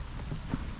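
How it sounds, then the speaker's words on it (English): Rain falls steadily outside an International truck as a storm builds, a short, even wash of noise with a faint low rumble beneath it and no talking. "sorry about the rain"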